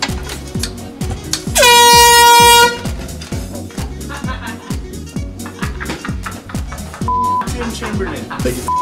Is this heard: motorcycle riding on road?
no